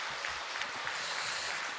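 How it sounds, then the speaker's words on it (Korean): A church congregation at a Sunday worship service claps with both hands raised high, a steady, faint wash of applause heard from a distance, continuous and even throughout. "우리 두 손을 다 높이 드시고 물개 박수로 다시 한번 드리도록 합니다"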